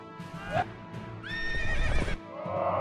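Horses charging in the video game Field of Glory, with a loud neigh and whinny rising over pounding clip-clop hooves and rumbling battle noise, close and dramatic.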